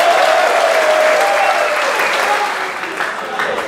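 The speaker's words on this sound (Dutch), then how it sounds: "En dan gaan we nu nog even echt klappen voor die dames" An audience applauds the ladies with loud, dense, continuous clapping that fades slightly toward the end.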